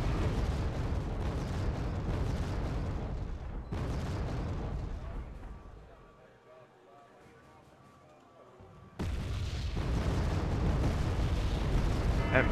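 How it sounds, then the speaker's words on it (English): Artillery bombardment in Wargame AirLand Battle: loud, dense rumbling booms and blasts roll continuously, ease into a quieter lull for a few seconds, then surge back at full strength, with a voice talking over parts of it. "Incoming artillery into the center. Gonna keep bombarding the grizzly."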